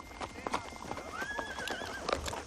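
Horses clop their hooves in an uneven close rhythm while one horse lets out a long rising whinny, with faint voices in the background.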